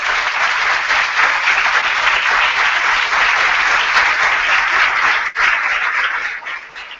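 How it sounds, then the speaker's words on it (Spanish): A university audience gives warm, continuous applause welcoming photographer Kevin Cummins, steady dense clapping from a sizable crowd that begins to thin slightly near the end. "a quien le damos la bienvenida con un caluroso aplauso"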